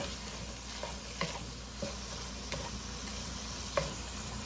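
Ground meat browning in a pan, a steady low sizzle with a few faint spoon clicks scattered over it, fairly quiet and without talk.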